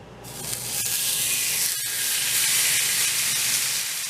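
A cheap New York strip steak laid into a very hot pan, sizzling loudly and steadily with a broad, continuous spitting hiss from the moment it hits the metal.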